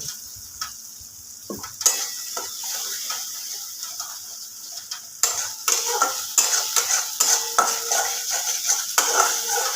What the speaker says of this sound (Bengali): মশলাটা নাড়াচাড়া করতে করতে একটা সুন্দর গন্ধ বেরোবে